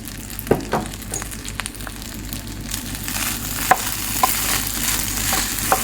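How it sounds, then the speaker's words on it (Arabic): Rice soaked in water and seasoned with a small spoonful of salt is stirred in a cooking pot for Syrian mansaf, giving soft scraping and swishing with a few sharper spoon clinks against the pot, close and alone. "بعملها تحريكة"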